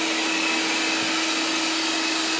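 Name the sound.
robot vacuum cleaner running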